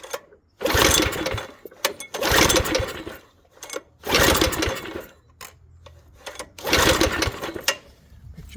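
A small engine fitted with a new carburetor is pulled over on choke with the throttle closed, giving several loud, close bursts of cranking and brief running, each a second or so long, separated by short pauses.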